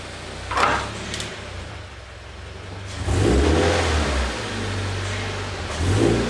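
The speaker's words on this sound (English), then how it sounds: "I'm going to have to get my car up on these ramps so I can then jack it up" A lowered Subaru BRZ / Scion FR-S engine revs as the car drives up onto ramps, with a short rev early on, then a longer sustained surge of throttle that rises and settles, close and fairly loud with no talk.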